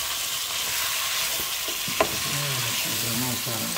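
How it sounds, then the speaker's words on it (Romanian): Meat stew sizzles steadily in a pot while a utensil stirs it, giving a constant frying hiss with soft scraping knocks. A voice speaks briefly near the end. "Și acum, bineînțeles, să amestecăm"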